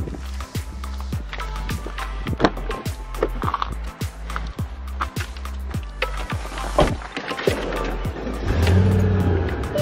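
A car rolls slowly into a home garage fitted with a distance sensor, its low engine rumble running under a regular series of clunks and rattles, growing slightly louder toward the end.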